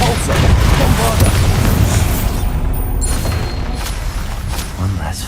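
Bombarda spell explosion in Hogwarts Legacy during a fight with a hulking brute: heavy booming blasts and rumbling impacts crowd a loud combat mix, with a voice calling out over the chaos.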